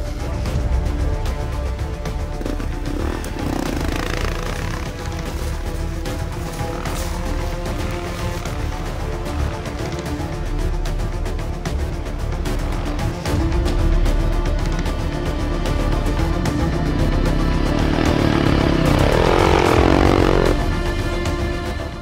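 Dirt bike engine straining up a steep hill in second gear, a continuous loud, rough motor drone with steady harmonics that rises near the end as it labors and pulls harder.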